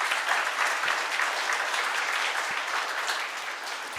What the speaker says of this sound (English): So she deserves a bigger round of applause